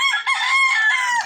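Native rooster gives a single loud, close crow, a drawn-out cock-a-doodle-doo lasting just over a second, clear and alone.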